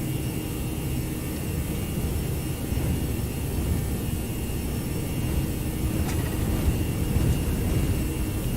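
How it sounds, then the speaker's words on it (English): Airbus jet engines spooling at takeoff power in the X-Plane 11 flight simulator, a steady broad roar with hissing, continuous for several seconds with no voices over it. "Takeoff power set."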